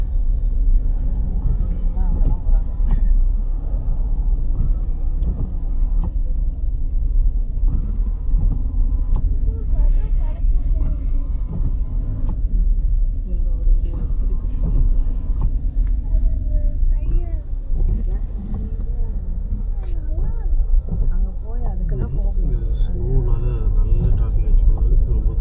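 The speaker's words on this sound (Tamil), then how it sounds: "ரொம்ப டிராஃபிக் ஜாம் ஆகி போச்சு." Road traffic crawls through a jam after snowfall near Whistler, a steady low rumble of idling and slow-moving vehicles heard from inside a car, with people talking over it throughout.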